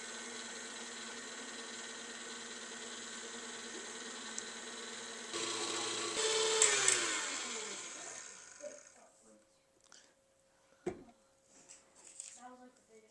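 A stand mixer beats gluten-free sugar cookie dough with a steady, droning motor whir that swells as the speed is raised, then cuts off. Talking follows.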